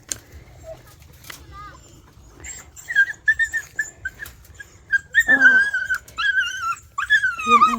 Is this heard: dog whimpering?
yes